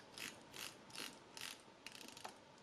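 Crisp ratcheting clicks from a rotating watch bezel in several quick bursts, close and quiet, with no talking.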